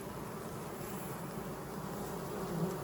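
A honeybee swarm buzzes in a dense, steady drone, close and fairly quiet, continuing without a break.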